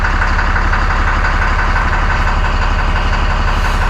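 A Ram 2500 truck engine with its stock exhaust idles steadily nearby, giving a constant, fairly loud low rumble with no voices.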